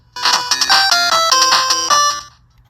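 Game Boy Advance SP playing game music through its built-in speakers: a loud, bright chiptune melody of stepped beeping notes in a quick rhythm, running alone for about two seconds before cutting off.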